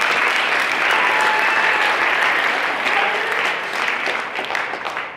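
Guests at a varsity and JV football banquet applaud warmly, a thick wash of clapping that holds strong, then gradually thins and fades toward the end.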